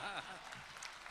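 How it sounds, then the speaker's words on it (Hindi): An audience at a Republic Day kavi sammelan and mushaira poetry recital in Dubai claps in a faint, brief patter of applause, with a voice speaking briefly at the start. "जरूरत से ज्यादा तालियां बजाई जाएं।"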